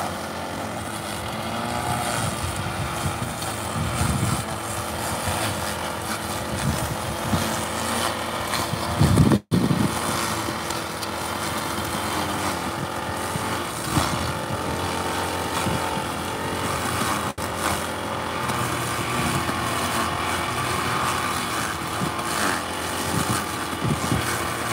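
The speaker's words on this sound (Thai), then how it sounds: "ใช้เครื่องตัดหญ้านะคะมาตัดหญ้าในร่องข้าว" Continuous buzzing small engine of a string trimmer cutting grass between rice rows in a field, running steadily outdoors, fairly loud, with a brief sharp knock partway through.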